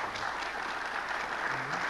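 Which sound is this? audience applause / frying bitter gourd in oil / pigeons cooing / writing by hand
audience applause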